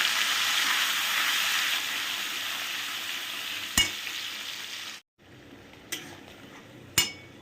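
Ginger, onion, garlic, cumin and chilli paste sautéing in hot oil for a festive jackfruit dish, a steady loud sizzle that drops away near the end, with a few sharp utensil clinks against the pan.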